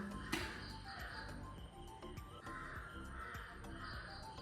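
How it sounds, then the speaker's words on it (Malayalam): A crow caws repeatedly in a steady series of harsh calls, heard at moderate distance over constant background noise, with no one talking. "കാക്ക കരയുന്ന സൗണ്ട് നിങ്ങൾ കേൾക്കുന്നുണ്ടോ?"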